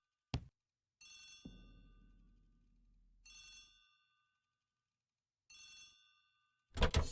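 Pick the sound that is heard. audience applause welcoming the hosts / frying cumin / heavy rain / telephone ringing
telephone ringing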